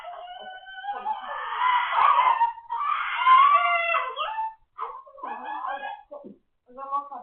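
A talking parrot mimics puppy noises, giving out close, loud whimpering yips and bow-wow-like barks in a continuous run that breaks into short bursts toward the end.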